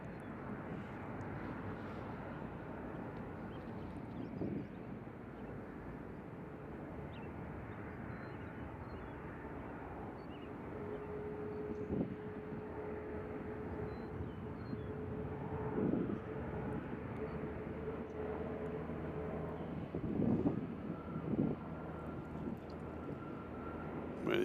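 Jet airliner taxiing at Nashville International Airport on a windy day, a steady distant engine roar and broadband wind rumble with occasional faint swells, heard alone.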